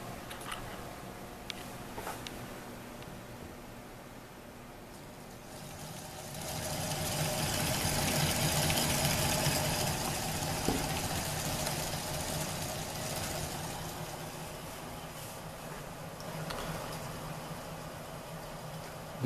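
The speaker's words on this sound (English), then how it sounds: "I will show a quick demonstration of this machine working" A small-scale Newman-type motor without a mechanical commutator runs with a soft, steady whir and faint ticking that swells louder in the middle and then eases off, heard close in a quiet room.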